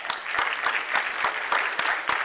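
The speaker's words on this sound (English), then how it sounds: "Nice round of applause from the studio audience." A studio audience at a Christmas morning program applauds as volunteer contestants come up, steady dense clapping with a few sharper individual claps standing out across the whole stretch.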